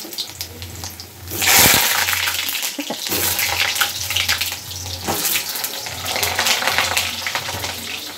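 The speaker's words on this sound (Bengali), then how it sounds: "আলুগুলো একটু ভেজে নেবো" Cut potatoes salted and turmeric-dusted fry in hot oil with a continuous hiss and crackle, a louder burst of spattering early on, then steady sizzling.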